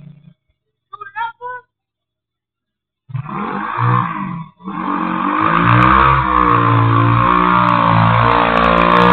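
A dirt bike engine on grass: after a few brief voices, it roars up loudly at about three seconds, dips for a moment, then holds a steady, close, high-revving drone to the end.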